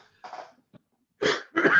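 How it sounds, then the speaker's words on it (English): A person coughs after eating spicy Indian food: a few quick coughs, then two louder, harsher coughs close to the microphone, with a brief throat sound between them and no talking. "now I'm coughing to death"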